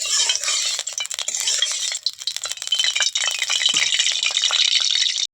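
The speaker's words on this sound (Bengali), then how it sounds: "দেখো মাছগুলো ভাজতে দিয়েছি" Pieces of rohu fish fry in hot oil in a wok, a bright, crackling sizzle spitting continuously throughout with small clinks. No one speaks.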